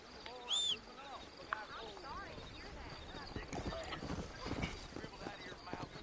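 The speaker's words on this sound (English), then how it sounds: "Pegar o nosso cavalo negro" Hooves of a black horse clip-clop steadily through Red Dead Redemption gameplay, a rhythmic trotting beat mixed with game ambience and a brief whinny-like tone near the start, while a voice talks over it throughout.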